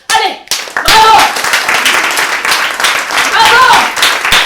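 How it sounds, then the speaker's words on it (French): An audience at a live event applauds itself: a brief voice, then dense, loud clapping from many hands that bursts in and carries on steadily, with a voice calling out over it. "vous allez vous applaudir. Allez, bravo!"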